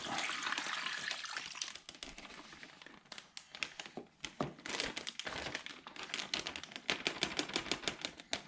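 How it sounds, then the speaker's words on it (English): Marinade dumped from above into a plastic bag of venison for jerky, with crinkling plastic and wet splashing and sloshing in irregular bursts, up close and unaccompanied by speech. "I'm going to take the marinade and dump it in on top of it."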